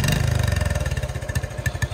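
A motorcycle engine revs as the throttle opens at a campground near Bishop, California, a close, loud rapid pulsing exhaust putter that throbs evenly throughout.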